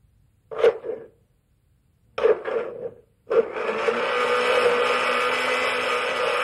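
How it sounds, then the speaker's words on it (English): Blender mixing hazelnut sauce made with scalded half and half and chopped toasted hazelnuts: two short whirring pulses, then a steady loud motor whir that runs on without a break. "And we'll blend it until it's well combined."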